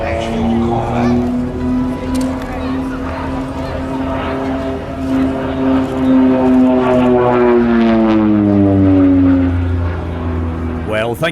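Propeller aircraft, a Cessna light attack plane, in combat footage, a loud steady droning engine whose pitch slowly bends downward as it passes, with a voice talking over part of it.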